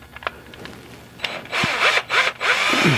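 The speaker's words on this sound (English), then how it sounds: "cordless screwdriver tool, as you can see." A cordless screwdriver backs screws out of a 2002 Honda Civic door panel, whirring loudly and close in a couple of bursts after some light handling clicks.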